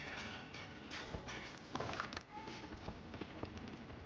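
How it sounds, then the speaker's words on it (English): Fireworks in the video game Max Payne 3 crackle and pop faintly in the distance as a scattered series of soft bangs over a low ambient background. "Fireworks."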